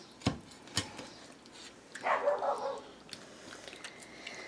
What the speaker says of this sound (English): Dogs are yelling.